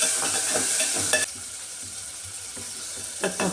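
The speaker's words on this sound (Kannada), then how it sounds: "ಟಮಾಟೆ ಹಾಕ್ತೇನೆ ಒಂದು" A tomato frying in a pan gives a steady close sizzle broken by a few light stirring scrapes, with no voices.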